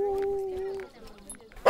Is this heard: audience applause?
no